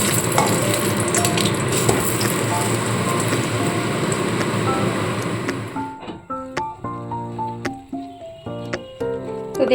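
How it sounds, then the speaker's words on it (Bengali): Pumpkin leaf paturi frying in a pan, a loud steady sizzle for about six seconds that then stops, followed by a series of short clinking utensil taps against the pan. "বাকিগুলো ঠিক একইভাবে ভেজে নিতে হবে।"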